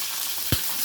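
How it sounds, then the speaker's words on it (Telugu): Green chillies dropped into hot oil in a pan, a steady sizzle of frying with one short, louder burst partway through. "కొంచెం నూనె పోసుకొని పచ్చిమిర్చి వేసుకున్నాం"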